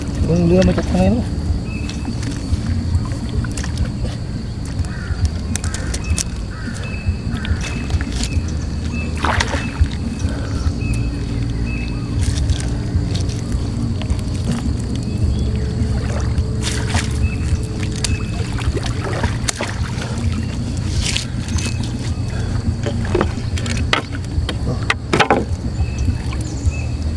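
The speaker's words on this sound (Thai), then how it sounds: "เรือมาจากทางไหนเนาะ" A boat moves on the water outdoors, with a low continuous motor rumble and sloshing under insect chirps and scattered knocks, while people talk nearby.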